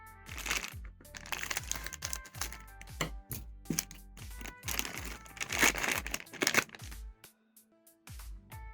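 A plastic package from Temu is torn and crinkled open up close, with continuous crackling, ripping and sharp rustles, brief pauses and a few louder snaps, and no talking.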